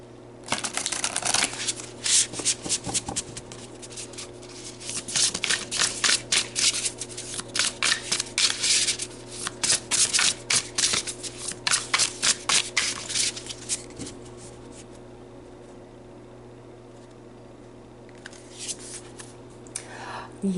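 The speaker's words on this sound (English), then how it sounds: "So let's pull you a couple of oracle cards and see what comes out there." Oracle cards are shuffled by hand in quick bursts of crisp, papery riffling, pausing briefly between runs and fading out near the end, close and clear with a voice occasionally heard.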